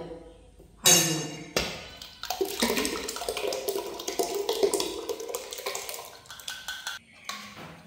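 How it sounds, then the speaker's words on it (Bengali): Dry lentils (dal) poured into a cooking pot of mashed rice for khichuri in a home kitchen, a loud rushing, rattling pour that starts abruptly and runs for several seconds, with clinks of the pot. "ডালটাও দিয়ে দেবো হাঁড়ির মধ্যে।"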